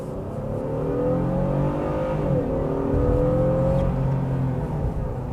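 A Honda J-series V6 engine in a 2026 Honda Passport TrailSport hums steadily and rises in pitch as it revs in sport mode, heard from close by with no talking.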